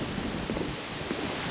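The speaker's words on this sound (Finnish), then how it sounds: "hyvin tuulinen keli täällä on." Strong wind blows steadily across an open nature trail with wooden duckboard walkways, a constant broadband rushing and buffeting noise on the microphone throughout, with no voices.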